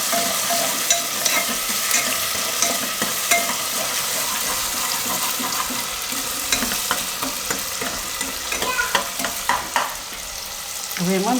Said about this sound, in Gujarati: થોડીક વાર તેલમાં આને આ રીતે ફેરવી લેવાનું